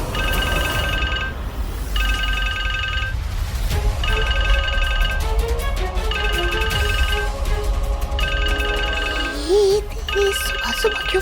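A phone ringtone repeats in regular bursts, about five rings, over a low background hum, with no voices.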